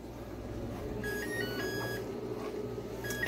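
A kitchen timer goes off in a home kitchen, a few short high electronic beeps in quick bursts, moderately faint over a low steady room hum.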